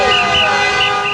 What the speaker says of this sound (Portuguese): inundar as ruas de Paris de cores, bandeiras e buzinas